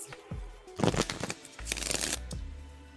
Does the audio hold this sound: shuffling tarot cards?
yes